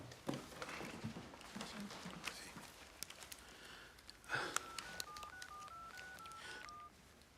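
A telephone is dialed in a French police drama: a quick run of about eight keypad tones in an uneven sequence near the end, preceded by soft breathing, sniffs and faint room rustling.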